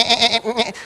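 A voice imitates a bleating sheep, a close, loud quavering "baa" in two wavering bursts, alone without any talk.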